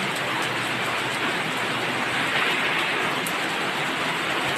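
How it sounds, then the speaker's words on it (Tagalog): Steady rain falls without a break, a dense, even hiss of drops on surfaces that stays loud and unchanging from start to finish, with no voices. "maghihintay sila Papa Beach at saka Creslin na tumila po yung ulan"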